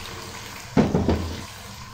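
Water poured into a cooking pot for a home-cooked chicken, turnip and spinach dish: a sudden splashing gush that starts midway and runs on briefly, fairly loud and close, with no talking.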